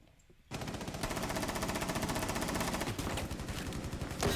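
Rapid automatic gunfire from Rainbow Six Siege erupts after a brief quiet moment, then holds as a loud, continuous stream of shots with a few short pauses.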